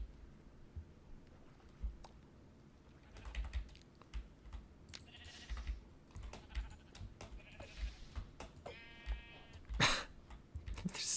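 Faint sheep bleats from a video game, heard briefly among steady computer keyboard typing and clicks, with no voice over them.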